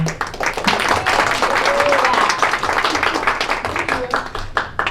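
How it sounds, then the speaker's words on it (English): Audience applause at a Jacksonville Atomy one-day sales seminar, dense sustained clapping from a crowd filling the room for about five seconds, with a few voices mixed in. "Another round of applause"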